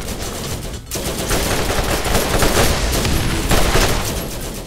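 Scorpio turret in Borderlands firing steadily, a dense, loud stream of rapid gunshots that carries on almost without a break after a brief dip near the start, with no voices over it.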